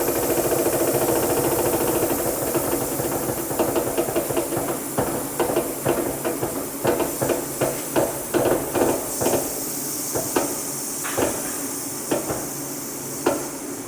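Air escaping from a Toyota Tacoma front tire through a slow Schrader valve, a continuous close hiss broken after the first few seconds by a run of sharp irregular knocks and clicks.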